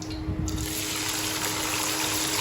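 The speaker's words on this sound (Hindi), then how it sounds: "घी जो अच्छी तरह से गर्म हो चुका है, अब हम इसमें डालते हैं प्याज" Chopped onions dropped into hot ghee for a bhindi gosht curry, giving a steady loud hiss and crackle of frying that begins abruptly and runs on without a break, with no talking over it.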